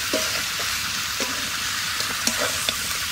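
Country chicken (deshi murgi) being braised and stirred in a wok after frying lime leaves, in a village kitchen on a stormy winter night; a steady close sizzle runs throughout, with a few scraping stirs.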